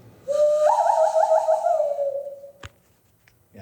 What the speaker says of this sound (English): I can do that little Indian whistle that you do with your hands, like the little good, bad, and the ugly